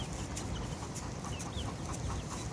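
Mixed flock of light brown, dark brown and black chickens clucking faintly over a dense, noisy farmyard background, with scattered short calls.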